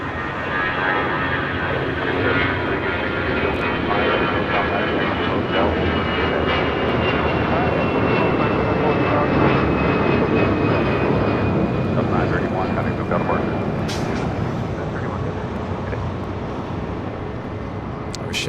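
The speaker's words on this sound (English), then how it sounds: "This is Alaska Airlines flight 703 coming up from Las Vegas, and this brand new, just delivered in September, 737 MAX 8." A brand-new Alaska Airlines Boeing 737 MAX 8 arrives at LAX from Las Vegas, a sustained loud jet engine roar with a slowly gliding whine, continuous for the whole stretch while someone talks over it.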